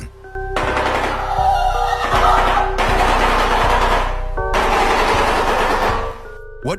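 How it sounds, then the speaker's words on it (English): Shoebill bird call: loud bursts of rapid, rattling clatter like bill-clapping, in three long rolls separated by brief pauses, heard close and alone. "Shoebill."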